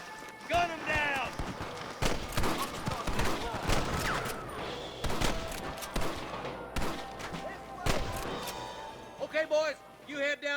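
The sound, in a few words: gunfire at rustler guards in Red Dead Redemption video game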